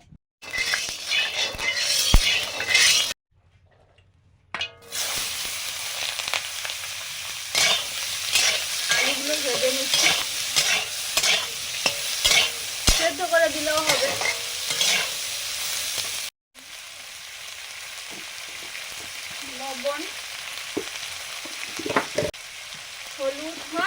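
Spicy semolina frying in mustard oil crackles and sizzles up close while a utensil stirs it with repeated scraping strokes, and a faint voice is heard now and then. Short pauses break the cooking noise.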